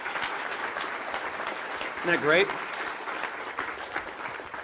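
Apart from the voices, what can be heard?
audience applause for the artist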